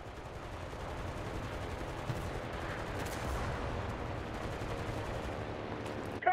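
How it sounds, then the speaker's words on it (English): Distant battlefield gunfire and artillery in the World War II shooter Enlisted, a dense, steady rumble of overlapping shots and booms, moderately faint, with a sharper blast at the very end. "Copy! Artillery!"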